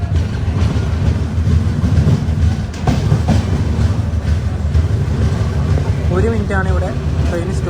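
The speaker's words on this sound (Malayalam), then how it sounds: "സമയം 2:37 ഫെറോക്ക് റെയിൽവേ സ്റ്റേഷനിലേക്ക് ഇതാ ട്രെയിൻ എത്തിക്കൊണ്ടിരിക്കുകയാണ്." A passenger train on the Mangala Lakshadweep Express pulls into Feroke railway station, rumbling with rhythmic clickety-clack of wheels on rail; a voice talks over it near the end.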